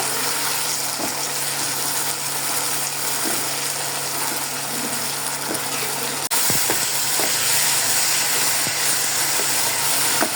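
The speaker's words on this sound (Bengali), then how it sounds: "এখন এটাকে দিয়ে দিলাম দিয়ে এখন ভালো করে একটু কষিয়ে নেব" A blended green chili, ginger and garlic paste sizzles in a hot pan with a steady, close frying hiss and occasional scraping stirs, a brief clatter partway through.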